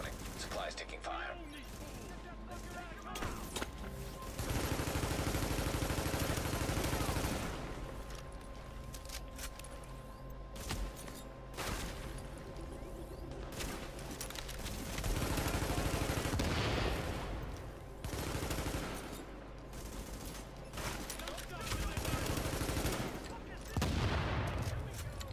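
Sustained gunfire in the video game Tom Clancy's The Division, dense bursts of shots running through the whole stretch at steady loudness, with voices speaking over the firefight.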